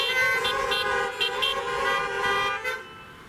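Car horns honk at an outdoor drive-in church service as a run of short, repeated toots, some overlapping, over a steady background.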